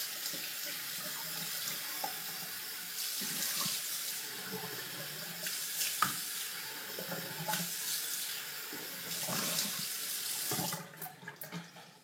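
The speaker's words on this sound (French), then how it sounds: "Alors, on va se rincer encore une fois." A tap runs steadily into a sink while someone rinses after a traditional shave: a continuous close splashing flow with small shifts as hands move through it, then a few drips and bumps once it is shut off.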